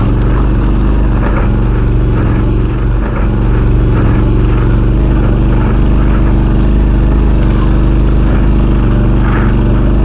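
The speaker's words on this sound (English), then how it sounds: "Bike sounds alright, let's go." A modified Suzuki V-Strom 650 adventure motorcycle rides along, with a loud, steady engine drone and rushing noise filling the whole stretch without a break.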